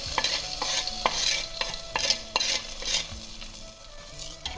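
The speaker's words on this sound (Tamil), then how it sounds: "அடுப்பு ஆஃப் பண்ணிவிட்டு மீன் குழம்புல இந்த தாளிப்பை கொட்டிடலாம்." Hot tempering oil is poured into fish curry in a clay pot and stirred, giving a close, crackling sizzle with repeated scraping and clinking strokes, no talking.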